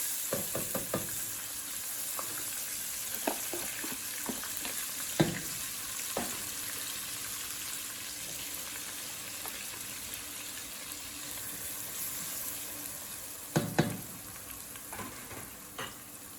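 Vegetables frying in a pan, a steady close sizzle and hiss throughout, broken by a few brief stirring scrapes and clatters, with no voices.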